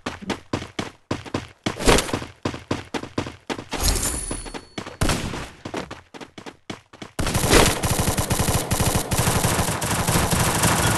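Gunfire in the Free Fire video game: rapid single shots in quick bursts, then a dense, sustained automatic volley that runs loud to the end, with a short rumbling stretch in between.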